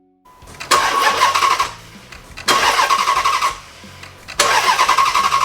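A 2006 Dodge Magnum SRT8 engine cranks over three times in separate bursts with a compression tester fitted to one cylinder and a plug removed, each bout of loud, rhythmic starter churning lasting about a second with short pauses between.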